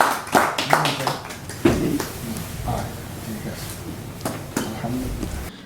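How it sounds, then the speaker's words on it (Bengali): An audience at an Eid reunion gathering of a book club in London claps in scattered bursts, fairly close and uneven, with pauses of murmuring room noise and a few louder single claps between. "আপনারা সবাই একটু হাততালি দেন।"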